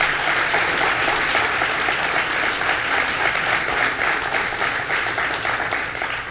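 A crowd at a governor's bill-signing event in Brentwood applauds steadily with dense, even clapping for about six seconds, easing slightly near the end, with no voices on top.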